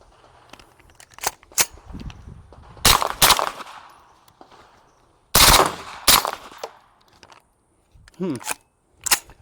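An Atrius Super Selektor FRS firearm fires in semi-auto, producing several sharp, loud shots spaced apart, some in quick pairs, with quiet handling noise and a voice in the gaps.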